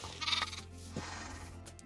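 A sheep in the Minecraft video game bleats once, close and fairly loud, followed by quieter game ambience, with no talking.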